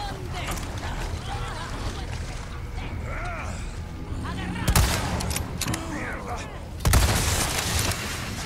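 Gunfire in the Resident Evil 4 Remake, two loud sharp shots standing out over a busy, rumbling game soundscape with clanking mechanisms, no talk heard.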